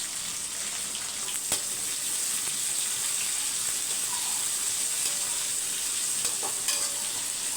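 Long-sliced large onion frying with chicken in sesame oil, a continuous bright hiss of sizzling with a few sharp clicks, close and even in level.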